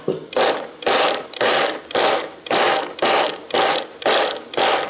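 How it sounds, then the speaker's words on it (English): Food processor pulsing barley, nine short loud whirring bursts in an even rhythm, each separated by a brief pause, close and alone. "pulse the barley a little bit."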